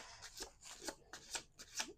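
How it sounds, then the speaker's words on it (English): Tarot cards being shuffled by hand in four quick riffling bursts, each a crisp papery rustle separated by short pauses, close and moderately loud with no talking. "We're going to do 2 more shuffles."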